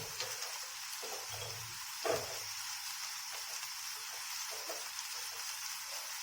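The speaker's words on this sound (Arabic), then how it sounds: "جبت كده قرن الفلفل بارد على حامي، وهقلبه مع البصل" Chilli pepper being fried and stirred with onion in a pan for pasta: a steady, soft sizzle and hiss throughout, with a single brief clatter of stirring partway through.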